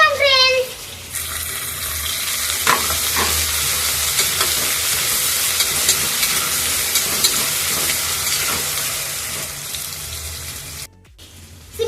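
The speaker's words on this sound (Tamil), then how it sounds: "பச்சை மிளகாய் போட்டுக்கலாம் ஃப்ரெண்ட்ஸ் வெங்காயம் போட்டுக்கலாம் ஃப்ரெண்ட்ஸ் வதக்கி" Green chilies and onions sauté in a pan while being stirred, a loud, close sizzle with scraping spoon strokes and a short whistling squeal at the start, then a sudden drop near the end.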